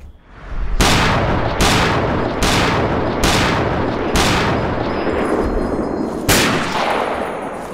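Loud, heavy gunshots in Fallout 3, including sniper rifle fire: six or seven sharp, booming reports spaced roughly a second apart, each trailing off in a long echo.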